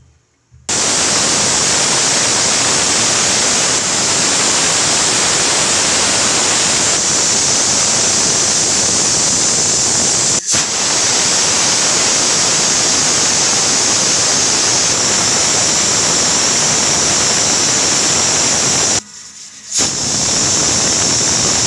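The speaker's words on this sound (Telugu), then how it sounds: "6 విజిల్ వచ్చేసాయి ఇప్పుడు స్టవ్ ఆఫ్ చేసుకోవాలి" A pressure cooker of mutton curry with fenugreek leaves lets off steam, giving a loud, steady, close hiss that runs almost unbroken, with one brief dropout near the end.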